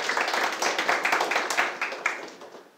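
An audience at a high school new-student admission briefing claps in welcome, a steady close patter of many hands applauding for a few seconds.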